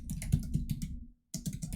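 Fingers typing on a computer keyboard, a quick run of soft, close clicks, a brief pause, then another burst of keystrokes.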